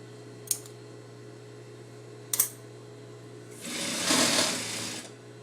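A sewing machine stitches a folded fabric hem in a quiet room, a short burst of roughly a second and a half that follows two faint clicks, with a steady low hum in the background.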